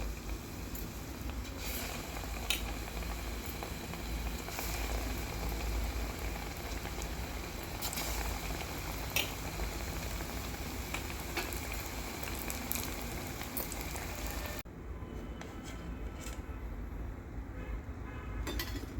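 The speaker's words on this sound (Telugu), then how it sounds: "ఇప్పుడు ఈ బజ్జీలని ఇలా శనగపిండిలో వేసి ఇలా నూనెలో వేయాలి." Potato bajji coated in gram flour batter deep-frying in hot oil, a steady dense crackling sizzle that runs unbroken and fairly loud before dropping quieter near the end.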